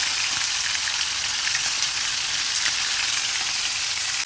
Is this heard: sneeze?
no